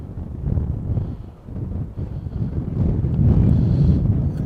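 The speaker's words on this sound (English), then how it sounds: "Tell how windy it is here today." Strong wind buffeting a camera microphone at an outdoor boys' baseball game, a loud low rumbling roar that swells and dips and builds toward the end, with no speech.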